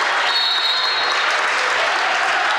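A high school girls' basketball crowd in a gym bursts into loud, sustained applause and cheering after a steal and layup, a dense wash of clapping that holds steady for a couple of seconds.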